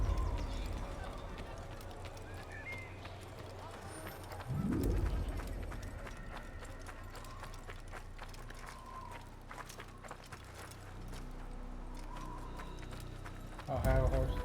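Horse hooves clip-clop in a steady trotting rhythm in Assassin's Creed, moderately close under game ambience with birds cooing and occasional louder thumps.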